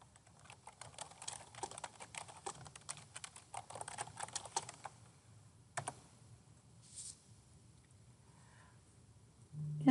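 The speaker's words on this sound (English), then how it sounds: "go ahead and type your message" Keystrokes on a computer keyboard as a message is typed, a quick close patter of clicks for about five seconds, then a few isolated taps and quiet pauses.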